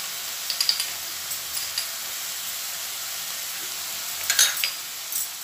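Spices with garam masala and salt fry in ghee in a kadhai for a dhaba-style palak dal, a steady close sizzle with occasional clicks and scrapes of stirring.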